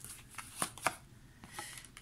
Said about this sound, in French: Pareil, on va tirer 3 cartes